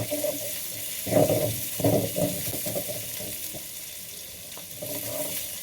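Small onions and chillies for a mint chutney fry in a pan, giving a close, continuous sizzle with a few louder bursts of stirring and scraping.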